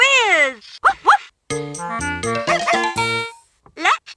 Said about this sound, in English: I'm a white dog with blue ears. Woof woof!